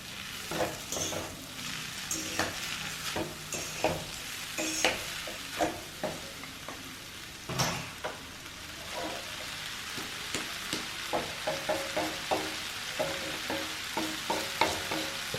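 Hakka noodles stir-fried in a pan, with steady sizzling and frequent scraping, clattering stirs repeating throughout, close and moderately loud with no talking.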